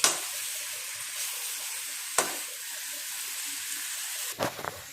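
Chicken pieces being mixed in a pan for gravy, heard as a low sizzle under occasional spoon scrapes, with a few sharp knocks and clatters, close and without voices.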